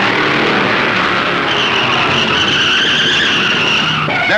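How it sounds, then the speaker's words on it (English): Stock cars race at Darlington in 1964 as a Mercury tangles with a Ford, loud engines roaring together while tires screech in a long, sustained skid squeal that rises midway and cuts off sharply near the end. "Mercury tangles with Cale Yarborough's Ford"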